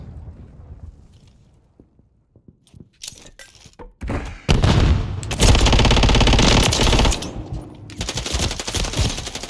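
Video game gunfire with a JAK Burnout loadout: sparse thuds and single shots early, then a loud, dense burst of rapid automatic fire that dominates the middle and trails into scattered shots.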